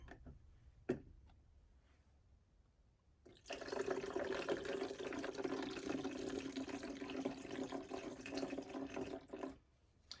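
Distilled water pours steadily into a filter, heard as a continuous splashing stream of about six seconds that stops abruptly. A few faint clicks come before it starts.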